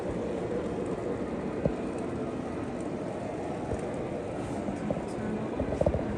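A Lionel model train engine circles its track, a steady low rumbling chug with faint clicks running throughout, fairly close and unbroken, with no talk over it.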